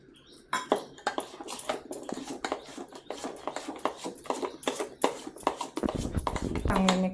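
Potato and poha pakoda batter is stirred in a bowl, with repeated knocks and scrapes of a spoon against the vessel in an irregular rhythm, close up, while someone talks over it.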